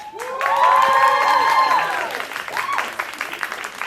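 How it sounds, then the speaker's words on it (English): A live audience applauds the five Sailor Guardians at a Sailor Moon press event, a broad steady wash of clapping that swells quickly and then thins out, with a voice carrying over the top near the start. "a round of applause for all 5 Sailor Guardians"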